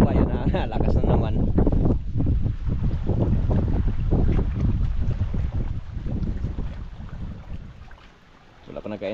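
Strong wind buffets the microphone at sea aboard a small fishing boat, a continuous loud roar that swells and eases in gusts before dropping away near the end, with a faint voice underneath.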